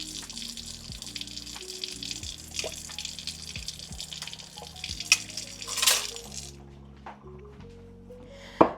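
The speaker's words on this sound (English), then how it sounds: "I'm going to go over here to the sink because I need some water" Water runs from a tap into a kitchen sink with splashing and dripping, a steady stream that tapers off near the end, with light clatter nearby.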